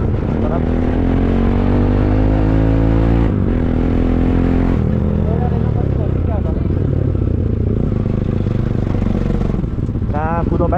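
A motorcycle engine runs loud and close throughout a ride along a hilly village road, its droning hum shifting in pitch as the rider changes speed, with rattling and wind noise over it.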